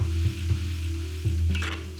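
Sichuan pork saozi frying in hot oil in a wok, a steady close sizzle with a few scraping strokes of a spatula and a brief clatter near the end, no voices.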